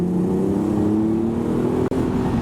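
A 2008 Audi TT 3.2L Quattro with a Magnaflow exhaust drones loud and close, its engine note rising gradually under acceleration, with one brief dropout near the end.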